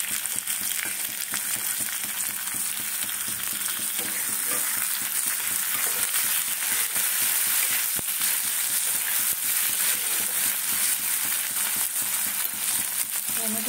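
Chopped onion and tomato fry in a pan, a steady, continuous sizzle that stays close and even throughout, with faint stirring scrapes and no talking.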